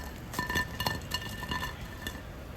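Crispy bottle gourd pakoda fritters dropped onto a plate give light, scattered clattering taps and clinks, fairly quiet and close, with no talk.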